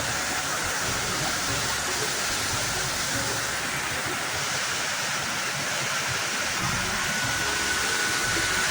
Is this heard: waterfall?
yes